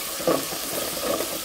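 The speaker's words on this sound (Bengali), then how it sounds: "মশলাগুলো আমি ভালো মতো কষিয়ে নেব।" A spice paste of chili, bay leaf, garlic and ginger frying in a pan gives a soft, steady sizzle with faint stirring scrapes for a brief moment.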